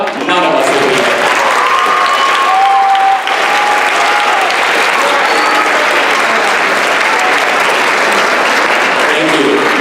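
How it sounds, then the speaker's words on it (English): A graduation audience claps in sustained, dense applause that fills the hall at full loudness, with crowd voices and a speaker audible under the clapping. "I want you to give your support system a round of applause"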